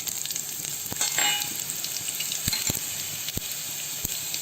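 Coriander seeds, cumin, fenugreek and dried red chillies roast in a little oil for a pickle, a continuous crackling sizzle punctuated by sharp stirring knocks against the pan, close and steady without talking.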